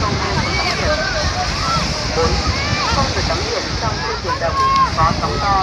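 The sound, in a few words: strong wind at the beach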